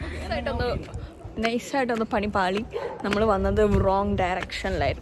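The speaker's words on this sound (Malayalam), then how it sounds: "ഒരു പട്ടി കിടന്ന് കുരയ്ക്കുന്നുണ്ട്" A dog barks at a house in Perth, Australia, heard beneath steady close conversation that runs through the whole stretch.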